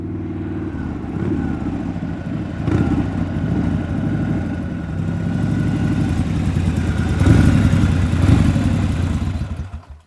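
Motorcycle engine running steadily at a mid-pitched idle-like rumble, loud and close with a rough, clattering texture and no voices, fading out at the end as the bike pulls up at a house in an audio drama scene.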